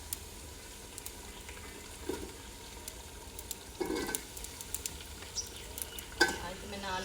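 Chicken pieces fry in ghee in a pot with a steady close sizzle, broken by scraping and clinks of a spoon stirring against the metal, plus a few louder knocks.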